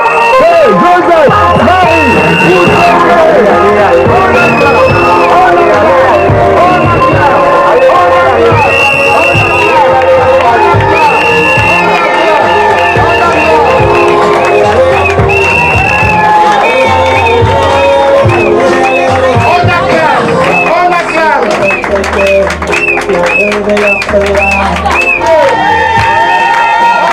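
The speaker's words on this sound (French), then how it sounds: "On acclame l'arrivée de Joseph" A loud, dense crowd cheers and shouts to greet an arrival at an outdoor political rally in Gabon, sustained roaring and whistling with chanting voices over music throughout.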